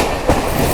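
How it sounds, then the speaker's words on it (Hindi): Vikramshila Express train passing a festival special train near Ajaibpur: a loud, close roar of rolling wheels and rushing carriages, steady and dense through the short moment. "यहाँ अपनी विक्रमशिला एक्सप्रेस ओवरटेक मार रही है हसनपुर रोड स्पेशल एक्सप्रेस को"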